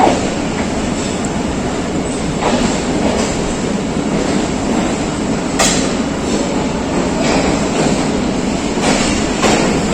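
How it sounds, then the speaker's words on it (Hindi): A Pakistan Railways train at Lala Musa Junction station rumbles steadily with a constant mechanical roar, faint clicks and a few brief squeals of the wheels, loud and close. "ये है लाला मूसा जंक्शन रेलवे स्टेशन।"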